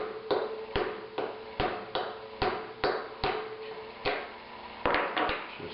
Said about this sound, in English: We're going to tap that bearing out.